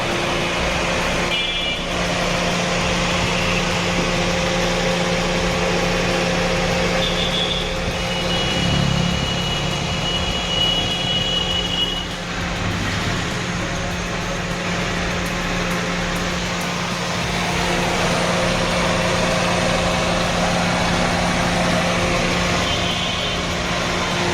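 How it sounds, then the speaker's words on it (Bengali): A Toyota Probox or Succeed engine rumbles steadily at idle throughout, with a slight swell in the middle as it revs, continuous and fairly close. "পিকআপ দাও, দাও পিকআপ দাও, ইঞ্জিনের সাউন্ডটা দেখা, পিকআপ দাও"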